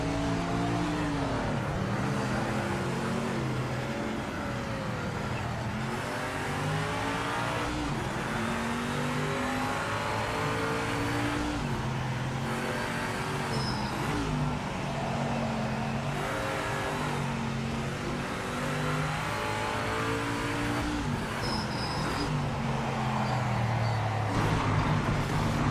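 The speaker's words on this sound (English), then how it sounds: "Car sounds good though." Race car engine in the racing video game Project Motor Racing, revving hard and shifting through gears repeatedly, rising and falling pitch sweeps with a constant loud roar and occasional tire noise, no talking.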